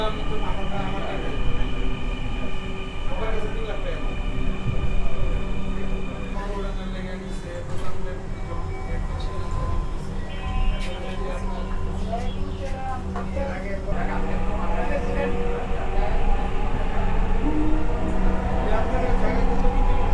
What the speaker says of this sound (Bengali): এখন আমরা পল্লবীর দিকে যাচ্ছি